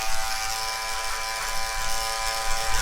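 A Wahl 5-Star electric hair clipper, guard opened all the way up, buzzes steadily and close while cutting hair on the side and back during a drop fade, a constant motor hum with slight fluctuations.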